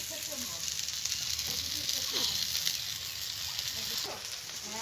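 Poppy seed paste and melon seed paste sizzle steadily in a hot pan, a continuous hissing fry with faint stirring scrapes and a little voice in the background.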